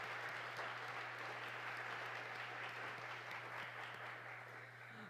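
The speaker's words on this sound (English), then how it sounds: "a big round of applause for everybody who's supporting" Applause from a business summit audience, steady dense clapping that holds at an even level for about five seconds over a low constant hum.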